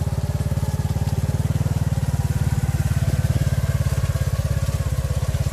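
A saleng motorcycle sidecar engine runs steadily nearby out in an open farm field, a loud, even low chugging putter that carries on without a break.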